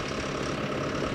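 A 2020 John Deere 5065E four-wheel-drive cab tractor with a front loader idles steadily nearby, its low, even engine rumble continuing without change throughout.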